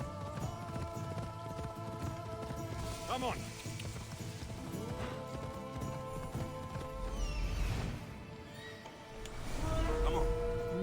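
Horse hooves clip-clop at a steady galloping rhythm through a video game, with occasional whinnies over game music and effects, while someone speaks briefly.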